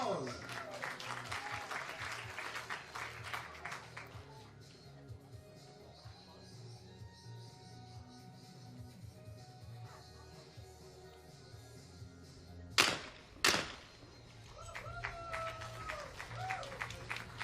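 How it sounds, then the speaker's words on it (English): Applause from the audience at a junior skeet shooting match, a steady spread of clapping with a commentator talking over it, then a sharp loud burst from a shot or two near the end. "We go on with your applause, the whole audience, come on, applause."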